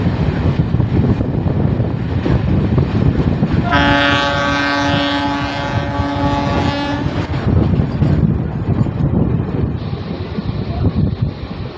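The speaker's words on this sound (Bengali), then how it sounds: "গুড়াপ যে রেল স্টেশন, সেই রেল স্টেশনে গাড়ি অলরেডি ঢুকছে।" A train entering Gurap railway station, a loud, close rumble of wheels on rails with a long horn blast partway through, and the rolling noise carries on after it.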